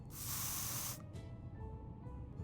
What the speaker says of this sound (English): If there is one thing that can drive spiders away and stop us climbing up the furniture, it's the bug-killing spray.